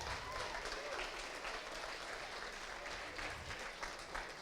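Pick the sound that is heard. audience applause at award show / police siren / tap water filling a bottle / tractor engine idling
audience applause at award show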